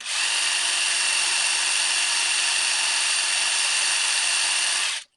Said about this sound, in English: I'm about halfway through at least the back of this hole